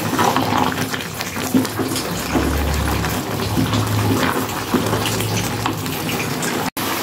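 Pineapple jam made from ordinary pineapple bubbles in a pan, giving a steady hissing, spattering rush with occasional low gurgles, close and continuous.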